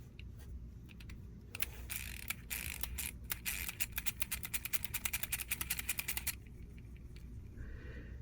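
Beast Wars 10th Anniversary Dinobot toy's spinning mechanism, set off by a button push, whirs and clicks in a rapid rattling burst lasting several seconds, close and fairly quiet over a low background hum.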